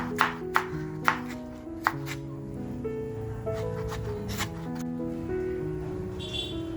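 A knife chops a tomato thinly on a board, with a few sharp, distinct cuts early on and then softer, irregular taps under a steady background hum.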